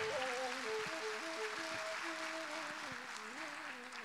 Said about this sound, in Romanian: Mulțumim frumos și aplauze pentru sponsor,